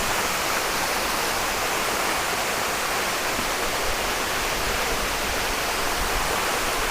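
Maticdum Busay waterfall in Tandag City, Surigao del Sur, Philippines roars as a steady, loud, broadband rush of falling water, constant throughout with no talk over it.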